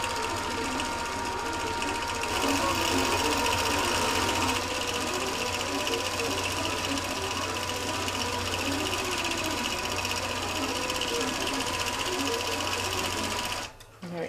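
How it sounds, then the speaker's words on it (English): A sewing machine stitching a pre-designed quilt runs at a fast, steady whir with a rapid needle rhythm, holding an even level for about fourteen seconds before stopping abruptly at the end. "The needle's going up and down faster"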